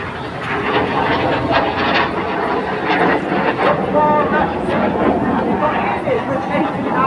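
Jet aircraft in an airshow formation roar overhead in a steady, loud wash of engine noise, with a commentator talking and crowd chatter underneath.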